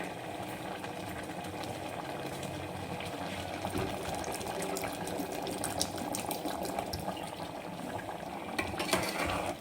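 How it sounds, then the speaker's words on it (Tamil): Water pours and splashes steadily into a beetroot gravy for the whole stretch, a continuous bubbling wash with no talking over it. "அதனால் தண்ணி ஆட் பண்ணிக்கிறேன்."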